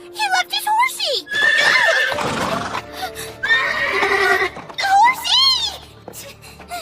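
A horse neighs in an animated fantasy series, a loud, wavering whinny with rising and falling cries repeated several times, close up, mixed with brief voices and a few soft hoof sounds.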